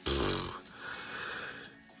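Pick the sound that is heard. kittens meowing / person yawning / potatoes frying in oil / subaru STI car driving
person yawning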